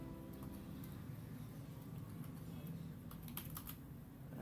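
Quiet, fast keystrokes on a Windows computer keyboard tap out a short command in an irregular patter, soft and close against faint background hiss.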